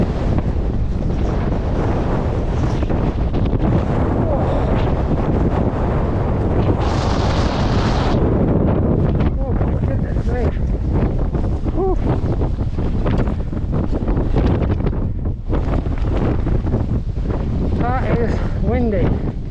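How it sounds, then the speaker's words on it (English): Strong gusty wind on a steep hike in the Brecon Beacons roars and buffets the microphone continuously, loud and close, with a voice speaking intermittently underneath. "that wind's picked up"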